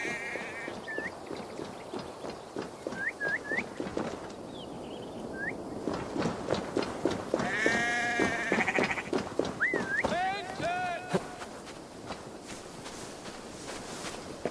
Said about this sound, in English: The sheep follows my whistle.